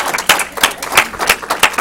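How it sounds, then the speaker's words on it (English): Audience members at a Healthmasters Toastmasters club meeting clap in a steady, fairly even rhythm, the sharp claps close and distinct, with no talking over them. "Let's give him a round of applause."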